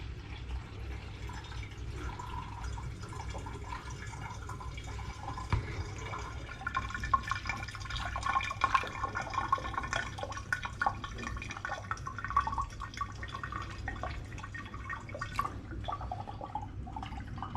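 Steady soft trickling and dripping of rhubarb and ginger cider through filter paper, faint irregular drips over a low background hum, no voices.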